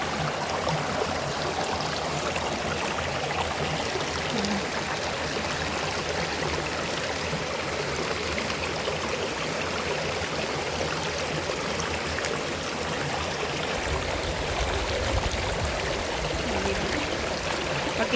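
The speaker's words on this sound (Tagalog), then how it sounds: "Pakinggan natin ang crickets at daloy ng tubig." Continuous rushing of flowing stream water at Yellow Dragon River, Hong Kong, steady and fairly loud throughout, with no talking.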